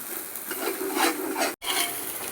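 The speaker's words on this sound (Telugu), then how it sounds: "ఉల్లిపాయలు చక్కగా వేగుతున్నాయి." Chopped onions sizzle and fry in hot oil for chicken dum biryani, a steady crackling hiss with a stirring scrape, close and fairly loud.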